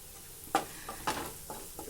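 Sliced onion with a pinch of salt sautés in a pan, a quiet background sizzle broken by a few sharp spoon-stirring scrapes and clinks at irregular intervals.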